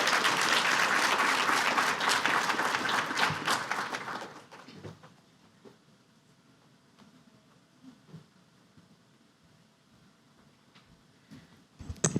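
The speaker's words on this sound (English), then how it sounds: "Please give her a round of applause as she comes up." An audience applauds loudly for about four seconds as a woman comes up to speak as leader of the Department of Neighborhoods, then the clapping drops away to quiet room noise with scattered small sounds and a brief bump at the end.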